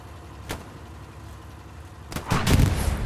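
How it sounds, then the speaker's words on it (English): Gunfire in a World War II shooter game set at Foy during the Battle of the Bulge, a single sharp shot followed by a loud close burst of rapid shots with heavy low thuds. "Guns him down right in the back."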